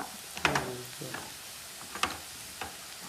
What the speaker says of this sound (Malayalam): ഒരു സ്പൂണ് ഗരം മസാല ഇതെല്ലാം കൂടെ വഴറ്റി